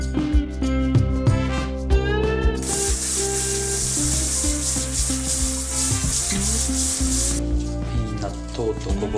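Napa cabbage, turnip and pork belly are layered in a frying pan over a medium-low flame to steam. A loud, bright hiss of sizzling steam bursts out for about five seconds in the middle, with talking before and after.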